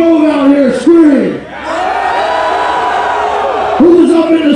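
A festival crowd at the 2019 SOOPA Gathering roars and cheers through a hip-hop set by a rapper. A hyped MC shouts loudly and drawn-out over it, and the crowd noise swells steadily beneath his voice.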